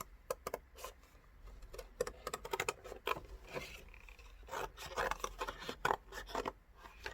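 Scissors snip through thick hardboard paper in a quick run of sharp, crisp cuts and crunches, close and fairly quiet, with no talking.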